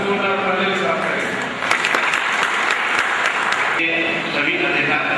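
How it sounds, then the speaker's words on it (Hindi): A crowd at a Hindi poetry gathering held during a Hindi fortnight event gives loud, sustained applause to welcome the host, with sharp individual claps over a thick wash of clapping and a voice talking over it. "आप सब उनका भी स्वागत एक बार जोरदार तालियों के साथ करें"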